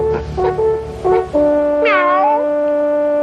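A cartoon cat, Garfield in the 1984 animated special Garfield's Nine Lives, gives a few short tonal cries, then a held note and a loud, swooping meow, close and clear, with no talking.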